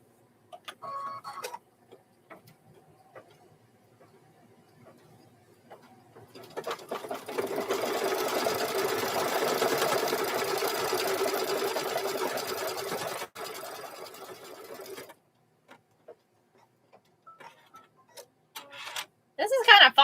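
A sewing machine stitching a hoodie sweatshirt, a rapid whirring run of needle strikes lasting several seconds, framed by shorter bursts, quiet handling noises and a person speaking.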